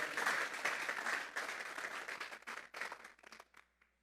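A church congregation claps together as an offering to God, a quiet but dense burst of many hands that holds for a few seconds, then thins into scattered claps and fades out.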